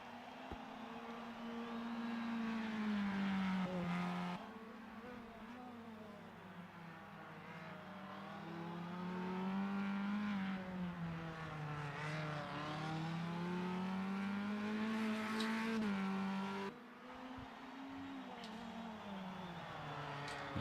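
F3 and Formula Inter single-seater race cars circulating at Interlagos, with engines droning steadily at a distance and rising and falling in pitch as they pass and lap one another.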